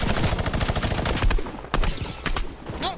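Fortnite gunfire: rapid automatic bursts of shots crack in quick succession, loud and close, then break into a few separate volleys with short gaps between them.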